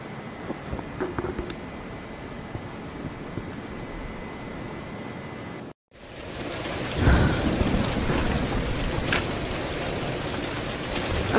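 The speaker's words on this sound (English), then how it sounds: "We're getting closer to the storm." Heavy rain and rumbling thunder from a storm in the Tomb Raider: Definitive Edition video game, a steady loud downpour that briefly cuts out, then returns stronger with a deep thunder roll.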